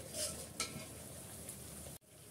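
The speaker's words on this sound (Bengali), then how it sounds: "আগে মশলাটা কষিয়ে নিচ্ছি ভালো করে।" Spice paste being stir-fried in a pan for a dal cooked with beef shank, a soft close sizzle with a few light scrapes of a spoon, then a brief break.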